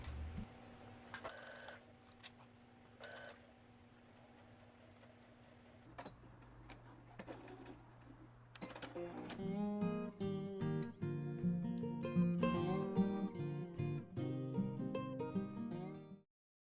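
A sewing machine stitches elastic onto a fabric cover: a few sparse mechanical clicks and knocks at first, then a fast, continuous, close motor-driven needle rattle that grows louder and runs for the second half, no speech.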